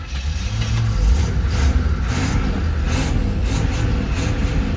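Engine of a 1987 Pontiac Firebird that sat for years, cranking and catching on fuel from a gas jug: a loud, close, rough running rumble with several bursts of noise, and no talking.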